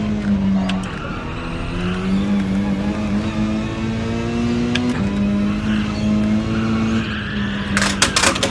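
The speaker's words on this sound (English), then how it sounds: "Every time you hear the tyres squealing, you're getting it wrong." Race car tyres squeal through corners at Mount Panorama in a racing video game, a close, continuous whine riding over the steady drone of the engine, with a brief flurry of sharper noise near the end.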